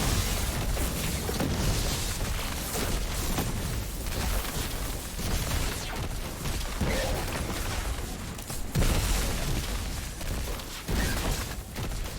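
Grenade blasts and booming explosions from the video game Destiny 2 sound continuously amid dense combat noise, with repeated heavy bursts layered over a constant roar.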